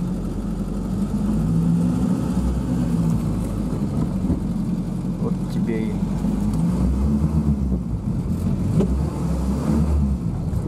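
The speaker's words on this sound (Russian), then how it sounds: "Сейчас немножко прошвыркается двигатель." A car engine runs steadily with low rumbling and mild rises in revs, close by and continuous throughout, with some background noise.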